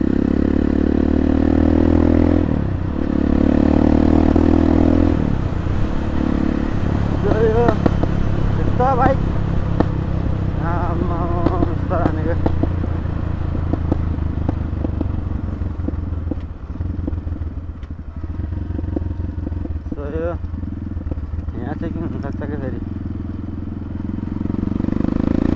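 Sports 250 dirt bike engine idling and revving close by, a throaty steady drone with a few rising throttle blips, while someone talks over it throughout.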